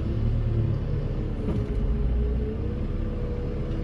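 Old JCB telehandler running with its hydraulics lifting, a steady heavy diesel rumble with a rising whine as the boom moves.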